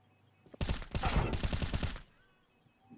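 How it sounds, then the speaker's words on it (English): Rapid gunfire bursts in a Counter-Strike match between BIG and Sprout, fired as a headshot through wooden cover. A dense, loud volley of overlapping shots lasts about a second and a half, then cuts off to quiet. "Nice headshot from tabseN, right through the wood."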